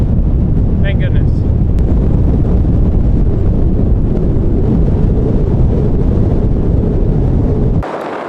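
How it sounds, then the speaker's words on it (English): Strong wind on the Kelso sand dunes in California's Mojave Desert roars steadily into the microphone, a dense rumbling buffet that continues without letup before cutting off abruptly at the end. "obviously it's super windy and it's cool"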